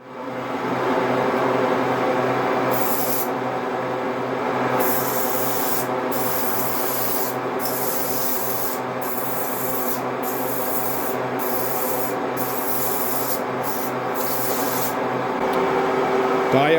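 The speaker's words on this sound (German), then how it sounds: "dann schleife ich das Ganze mal mit ein bisschen Schmirgelpapier" Steady, continuous scraping of sandpaper rubbing back and forth over the air intake of a model jet engine, loud and close, with no talking.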